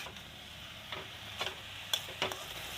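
Khutura greens with local fish frying on a gas stove, a soft steady sizzle broken by several sharp scrapes and clinks of stirring.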